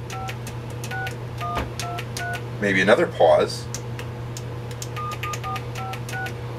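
A tone generator dials a phone number in clear DTMF dual-tone beeps: a rapid run of short, evenly spaced tones, a pause while someone talks briefly, then another quick burst of dialing tones, all close and moderately loud.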